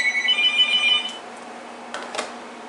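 A Uniden EXAI978i cordless phone plays its clatter ringtone, a bright repeating electronic chime that runs for about a second and then stops, followed by faint handling clicks.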